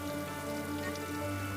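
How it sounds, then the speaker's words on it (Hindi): Heavy rain falling outside in a Hindi cartoon story scene: a steady dense patter under a constant tonal background music bed, even and unbroken throughout. "तभी जोर जोर से बाहर बारिश हो रही थी"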